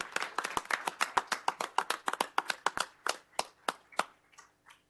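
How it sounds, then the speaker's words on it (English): A small audience at a planning and zoning commission meeting claps for a retiring member, a sparse run of distinct, fairly close hand claps that thins out and stops after a few seconds. "One more round of applause for Joe."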